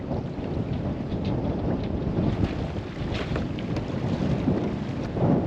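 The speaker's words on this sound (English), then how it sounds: "it's still pretty bloody windy back here" Strong wind buffeting the microphone at sea aboard a sailing boat near Lizard Island, a continuous loud roaring rush with gusty swells and no voices.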